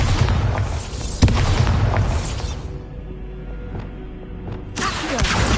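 Bombarda blasting spell explodes in Hogwarts Legacy with a loud booming burst, a second heavy impact quickly following, then a quieter rumbling tail before another blast swells at the end.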